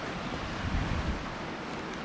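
Water rushes steadily on a mountain trail where a river blocks the way, a constant broad roar mixed with wind noise on the microphone, with no speech.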